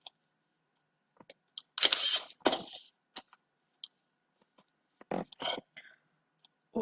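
Camera shutter clicks ring out in short, separate bursts, several spaced a few seconds apart, while a zombie is photographed in Minecraft; the sounds stand alone against near silence.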